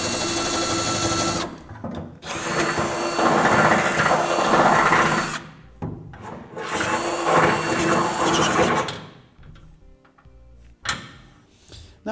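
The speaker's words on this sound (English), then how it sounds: "we're going to drill our half inch hole through both of those." A power drill bores a half-inch hole through steel truck frame, grinding loudly in long bursts, pausing briefly between runs, then falls quiet with a few small clicks at the end.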